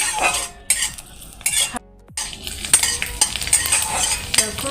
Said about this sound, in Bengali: গরম কড়াইতে এবার তেল দিয়ে দেব তেলটা একটু গরম হয়ে গেলে তার মধ্যে এবার দিয়ে দেব রসুনগুলো দিয়ে দিয়েছি